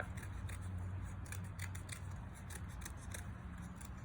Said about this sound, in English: cut a circle out of some paper and then cut a spiral into it